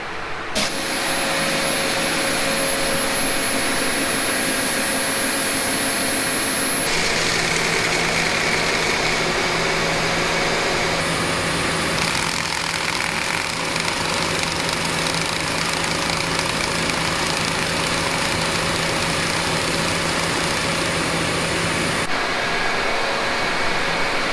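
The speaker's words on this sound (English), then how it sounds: "Our seed has been deposited by the planter, and now we're going to weigh it." A seed planter runs during seed calibration with a constant, loud mechanical drone and whine, steady for the full stretch with small shifts in pitch and no talking.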